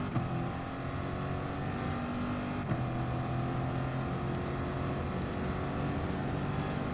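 Engines of race cars at the start of a video game race, a McLaren F1 and a Corvette among 14 drivers, a steady droning engine mix that holds at moderate level without voices.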